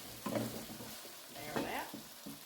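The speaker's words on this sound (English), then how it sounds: "Just turned off, popping everywhere." A pot of beef stew sizzles and pops with water added, a soft bubbling crackle with scattered louder pops and a voice speaking faintly alongside.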